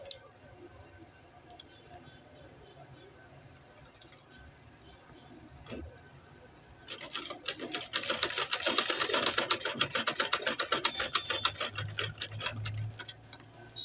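A sewing machine stitches fabric for a senator pocket, starting up partway through after quiet handling sounds and then running as a close, steady, rapid mechanical rattle.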